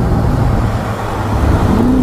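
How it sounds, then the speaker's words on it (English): A manual-transmission Dodge Challenger Scat Pack 392 V8 rolling along at about 40 mph before a roll race, a loud low engine drone with rising revs near the end. "we're in the manual SCATPACK, and we're gonna go from a 40 mile per hour roll"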